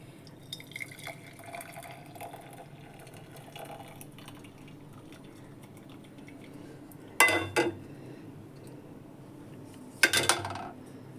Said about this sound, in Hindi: अब मैं दूसरे गिलास में इसको छानूंगी।